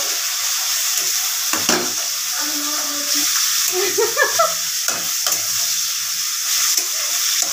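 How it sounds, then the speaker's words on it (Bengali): Onions fry in a little oil while meat cooks, a continuous close sizzle with scraping stirs and soft clatter throughout. "মাংস রান্না করছে, পেঁয়াজ ভাজছে, কি সুন্দর করে করে পেঁয়াজ ভাজছে"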